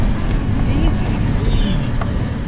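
Toyota Troopy engine laboring under load while climbing a steep sand section in Big Desert, Victoria: a steady, loud low-frequency rumble that continues throughout, with talk over it.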